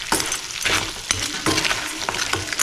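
Spices cooking together in a hot pan: a loud sizzle broken by repeated sharp scraping stirs at an uneven rhythm, close up, no talking.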